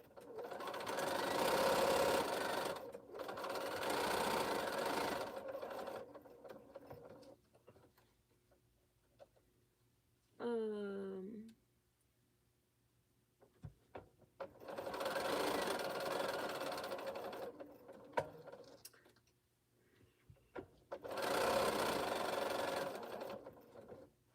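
A sewing machine stitching a quilt hem runs in four long bursts separated by quiet pauses, with one brief whirring rise in the middle; close and steady, no talk over it.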